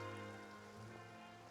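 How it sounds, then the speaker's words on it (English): Rain falls in Genshin Impact, a soft, steady patter on surfaces that carries through quietly and evenly, with no voices over it. "It rained for longer than I suspected."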